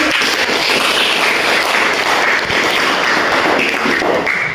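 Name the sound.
classroom applause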